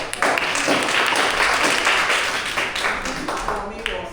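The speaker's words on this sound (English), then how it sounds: "Let's give her a round of applause." Audience at a Toastmasters club meeting breaks into applause for a speaker, dense overlapping clapping close and fairly loud, sustained for several seconds with some voices mixed in.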